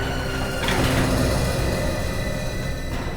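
A lift's sliding door rolls open with a steady, loud mechanical whoosh and rumble lasting a few seconds, with no talking over it.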